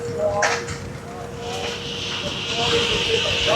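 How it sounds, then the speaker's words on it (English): A steam engine at a barn festival hissing, a steady sharp hiss rising toward the end amid outdoor crowd noise, with a person talking nearby. "Got some steam power here. Wonderful steam power."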